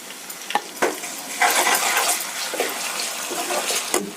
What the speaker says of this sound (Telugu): అల్లం వెల్లిగడ్డ పేస్ట్ పచ్చివాసన లేకుండా ఫ్రై అయిన తర్వాత